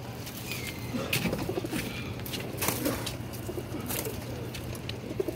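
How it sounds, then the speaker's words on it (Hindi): Red-eyed Surya pigeons coo softly and repeatedly in a loft, the low coos mixed with occasional wing flutters, all fairly quiet and close. "ये माशाल्लाह लाल आँखों वाला सूर्या कबूतर है।"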